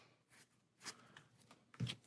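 Playing cards are shuffled during a solo Marvel Champions card game, giving faint, brief rustling riffles separated by short pauses and ending with a slightly louder snap.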